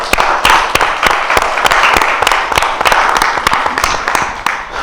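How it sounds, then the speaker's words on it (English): An audience at a podcast event applauds: dense, fairly loud clapping from a modest crowd, steady for several seconds and then tapering off at the end. "So clap it up for Kim one time"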